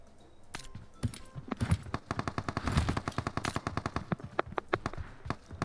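Bursts of automatic gunfire from the PUBG Mobile battle game crackle in rapid, uneven volleys of sharp shots, some close and loud, others lighter, with no talking.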